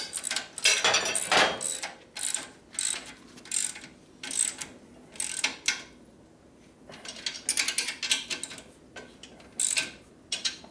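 A wrench tightens a bolt on a 1972 1000cc Ironhead Harley Sportster. Quick bursts of sharp ratcheting clicks come in irregular runs, with short pauses between strokes, close and fairly quiet.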